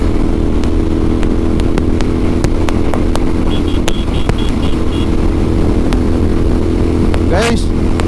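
A Royal Enfield Interceptor 650 motorcycle rumbles steadily while riding, with wind noise over the engine drone and a person talking over it.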